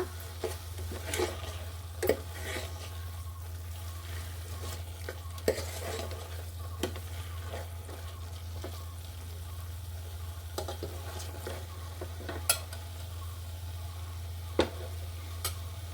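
Coriander and sambar powder are sautéed in a pan for palak dal saaru, a faint, soft sizzle with occasional sharp spoon taps and scrapes against the pan over a low steady hum, quiet and without voices.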